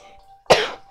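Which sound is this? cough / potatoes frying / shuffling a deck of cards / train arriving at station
cough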